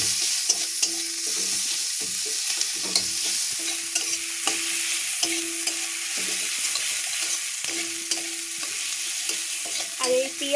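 Chopped onions and five or six green chillies fry in a pan with a steady close sizzle, broken by repeated scraping stirs of a spatula, with no talking.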